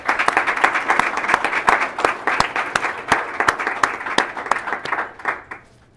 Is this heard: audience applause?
yes